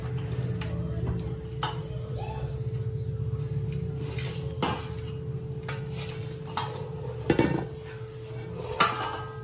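Food is scooped into a cooking pot and levelled: soft scraping and light metallic clinks of a utensil against the pot, irregular and fairly quiet, with a few sharper knocks toward the end and no talking.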